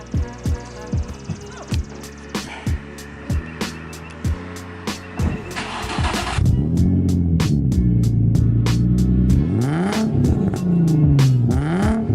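A Nissan G35's engine with a new aftermarket exhaust revs in sharp repeated bursts, then holds a loud, sustained roar with rising and falling pitch, close by with no talking.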